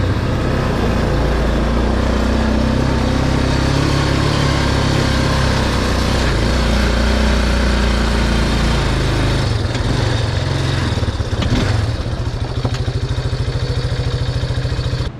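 Vintage Honda Elsinore MR50 dirt bike engine running, a loud, steady buzzing two-stroke drone held close for the whole stretch with slight shifts in pitch.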